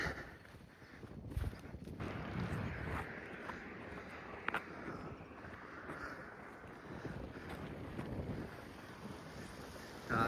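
Strong wind gusts across open countryside of fields and forests, a steady loud rumbling roar buffeting the microphone throughout with occasional sharper bursts.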